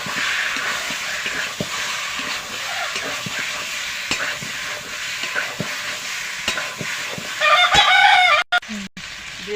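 Chicken pieces stirred into spice masala in a hot pan for biryani, sizzling and frying with repeated scraping stirs throughout, and a brief clatter near the end.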